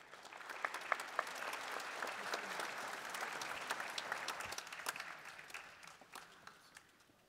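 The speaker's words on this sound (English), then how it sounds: "Let us give them a warm show band round of applause." Audience applause for the Ontario Chaffey show band's vocalists at a holiday concert, steady dense clapping filling the room for about seven seconds with scattered sharper claps, fairly distant and fading slightly at the end.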